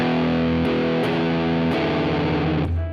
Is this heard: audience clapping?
no